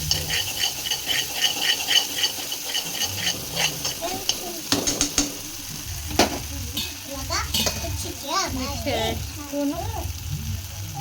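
A soya mixture with mayonnaise is stirred in a hot pan, with scraping, clattering strokes and a low sizzle close by, while a voice chatters over the cooking.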